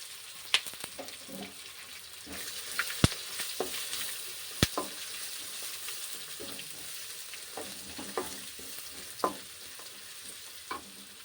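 Tender tamarind leaves being fried with green chillies in a pan, giving a steady low sizzle with occasional sharp clinks and scraping from stirring, no talking.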